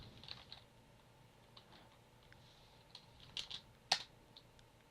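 Light, sparse keystrokes on a computer keyboard as a command is entered, soft scattered taps building to a few sharper clicks near the end, fairly quiet and with no voices.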